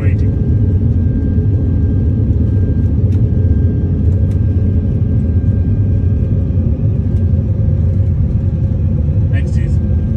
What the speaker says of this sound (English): Airplane's accelerating.